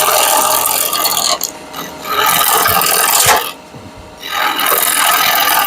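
A wood lathe turns a piece of wood while a tool rounds off its end, producing close, loud scraping and rasping cuts. Brief pauses and one longer quieter gap break the cutting.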